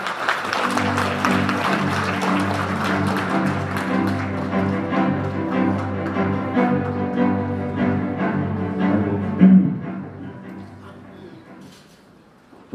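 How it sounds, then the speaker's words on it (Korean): A crowd at a tattoo artists' association awards ceremony claps steadily for several seconds, the applause fading out toward the end, with a low hum beneath. "뜨거운 박수로 맞아주세요."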